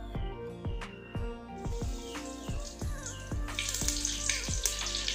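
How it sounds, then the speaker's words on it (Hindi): Ghee heating in a pan for khichdi gives a soft hiss that swells into a broad sizzle toward the end, under a steady series of ringing metallic taps. "घी को आड करवा।"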